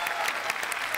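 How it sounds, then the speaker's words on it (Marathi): An audience bursts into loud, dense applause as a performer, Rocking Omkar Govardhan, is welcomed onto a stage; the clapping is steady and continuous from start to finish. "जोरदार टाळ्या."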